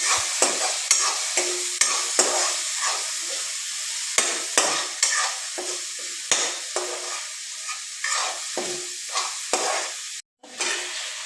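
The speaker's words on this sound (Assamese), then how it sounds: "লাৰি পেলাই এই চিকেনখিনি দি দিলোঁ এতিয়া ইয়াতে" Chicken pieces stirred and fried in a pan with turmeric, a steady sizzle broken by repeated scraping stirs at a regular pace, close and fairly loud, with a brief gap near the end.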